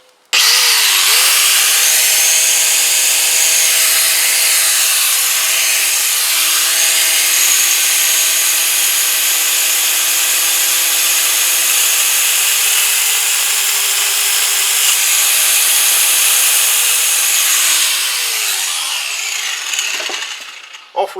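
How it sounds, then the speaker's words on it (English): Power tool spinning a very thin cutting disc during work on a Kawasaki BN125 Eliminator motorcycle, a loud, continuous high whine that holds steady for about twenty seconds with pitch dips under load before winding down. "a very thin cutting disc."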